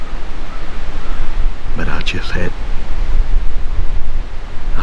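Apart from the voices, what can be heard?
strong wind blowing outdoors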